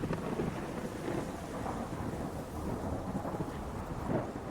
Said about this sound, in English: you hear the first little vestiges of a small amount of lightning far in the distance